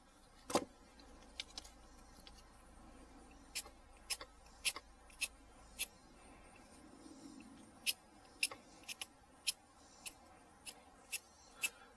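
Sharp clicking snips of pruning shears cutting a lime tree branch above a node, about a dozen short crisp cuts spaced irregularly over a quiet outdoor background.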